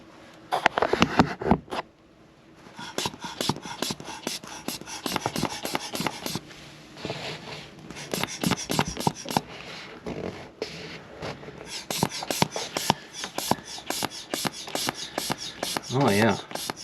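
A jack is pumped by hand to lift a camper slideout floor, giving rhythmic rasping, scraping strokes repeated at a steady pace, close and moderately loud, with a short pause early on.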